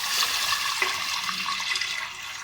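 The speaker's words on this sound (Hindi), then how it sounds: "अब हम इसमें पानी शामिल करेंगे और जोश आने के बाद चावल डालेंगे" Water poured steadily into a cooking pot for turmeric garlic rice, a continuous splashing rush lasting a couple of seconds, close and fairly loud with no talking.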